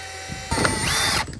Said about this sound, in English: So now we got to drill new holes in it.